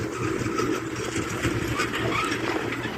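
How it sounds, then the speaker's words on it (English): A tractor engine runs steadily at a distance while grooming a dirt motocross track in the countryside, a continuous mid-pitched drone with slight fluctuations and no talk. "Andy should be coming around somewhere with the other tractor."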